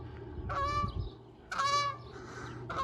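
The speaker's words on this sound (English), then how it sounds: "Goose coming right overhead there." Goose honking as it flies overhead on a spring city walk in Regina, three loud clear honks spaced about a second apart against faint outdoor background.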